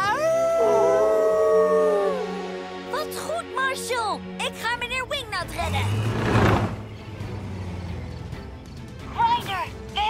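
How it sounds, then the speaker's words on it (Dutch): A cartoon wolf gives a long, rising and falling howl with a clear tone, opening the scene and fading as other voices and a low rumble come in, set in an animated rescue-pups episode. "Oh nee, dat klinkt als nog een wolf."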